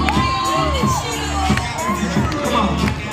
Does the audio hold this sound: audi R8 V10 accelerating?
no